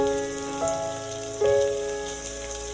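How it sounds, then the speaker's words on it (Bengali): Chopped onion and garlic fry in a little oil in a pan for koraishutir kofta curry, a close, even crackling sizzle that swells briefly midway when stirred, with no voices. "পেঁয়াজ আর রসুনটা লাল লাল করে ভেজে নেব"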